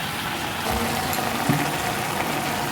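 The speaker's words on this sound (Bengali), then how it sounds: "আমি এতে জল ঢেলে দেবো" Water poured into a pan of Malabar spinach stems and taro, a steady broadband splashing rush that holds at an even level throughout, close by with no talking.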